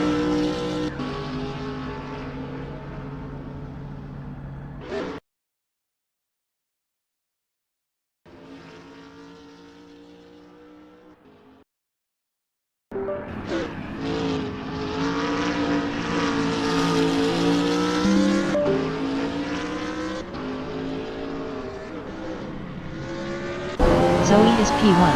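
A BMW Z4 GT3 race car engine roars and revs in a sim racing game at Brands Hatch GP, loud rising and falling gear changes with brief silent gaps, under a commentator's voice.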